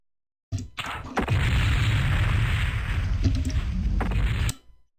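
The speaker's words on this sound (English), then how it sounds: "Critical hit. Internal ammo explosion detected." A mech's internal ammunition cooks off in MechWarrior 2, a loud, sustained roaring blast after a sharp onset, rumbling steadily for about three seconds before cutting off abruptly.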